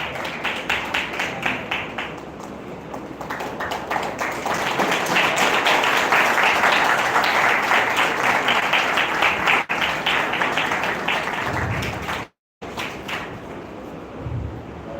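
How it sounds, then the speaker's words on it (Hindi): Prolonged applause from the audience at an Orator of the Month award ceremony, starting with quicker distinct claps and swelling into a thick, loud roar of clapping, with a few dull thumps and a brief dropout near the end. "फिर से तालियां दो।"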